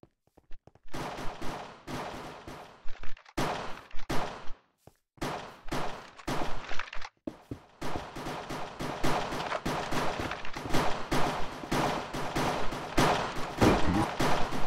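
Pistol shots ring out in a Minecraft Hypixel MC:GO round, with sharp gunfire cracks at first spaced by short pauses, then crowding into a dense, nearly continuous volley, loud and close, with no speech over them.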